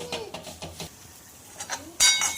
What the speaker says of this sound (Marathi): सारखं असं हलवत आपल्याला छानपैकी फुलेपर्यंत असा भाजून घ्यायचा आहे हा रवा।